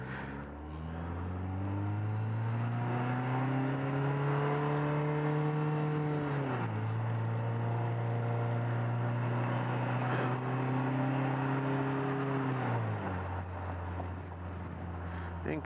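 A Vanderhall Carmel autocycle drives along with a loud, steady engine drone that rises through the gears, drops sharply at a paddle-shifted upshift, then climbs again and shifts once more.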